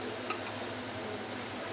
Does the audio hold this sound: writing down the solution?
no